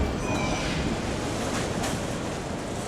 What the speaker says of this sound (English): From here we go underground, entering the bright depths of the city, the subway, pride and joy of the capital.